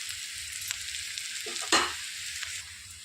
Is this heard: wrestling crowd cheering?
no